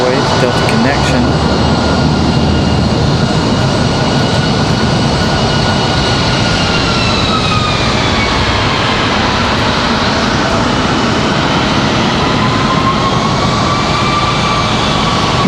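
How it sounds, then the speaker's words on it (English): A Republic Airways Delta Connection Embraer E175 taxis in under marshalling at Raleigh Durham airport, its jet engines holding a loud, steady roar while a high whine slowly falls in pitch. "they're going to marshal in our E175 here, this Republic Airways Delta connection."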